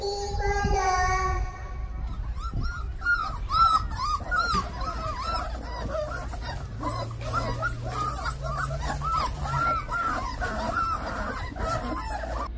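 A dog barks repeatedly in quick, sharp bursts mixed with high whimpering yelps, loud and close, with a low steady hum underneath and poultry-like calls faintly in the mix.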